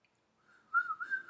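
Person whistling, a short faint rising whistle that swells briefly near the end, alone without talk.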